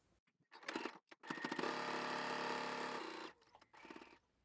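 Domestic sewing machine with a normal presser foot stitching a seam through fleece fabric: short bursts, then a steady two-second run of close mechanical whirring and clatter, and a brief final burst, with no talking.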